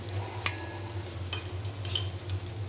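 Curry leaves fry in oil alongside fish, giving a steady close sizzle and hiss with a sharp utensil tap and light stirring sounds.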